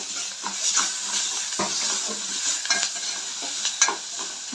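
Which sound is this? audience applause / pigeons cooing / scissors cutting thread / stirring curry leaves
stirring curry leaves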